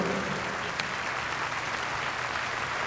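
A studio audience welcomes a guest onto the stage with a dense, even wash of applause that holds steady throughout, moderately loud and without speech.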